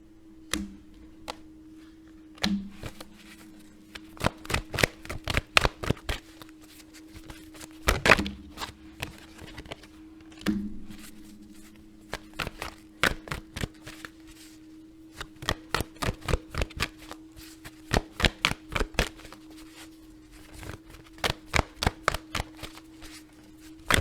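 Tarot cards being shuffled make irregular bursts of sharp riffling clicks and flutters, close and crisp, with pauses between runs and a faint steady hum underneath.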